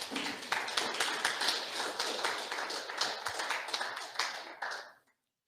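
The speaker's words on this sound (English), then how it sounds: "Let's give him a round of applause here." An audience at an Ojibwe teachings gathering applauds with a burst of dense clapping that holds steady for about five seconds, then cuts off.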